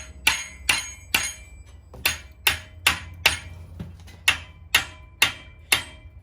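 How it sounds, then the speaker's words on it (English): A hammer strikes a forged steel gambrel being bent to shape, giving about fourteen sharp, ringing metallic clanks at an uneven but steady pace, close and loud with short ringing tails and no speech. "take our hammer."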